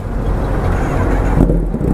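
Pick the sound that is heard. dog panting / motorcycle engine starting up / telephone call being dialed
motorcycle engine starting up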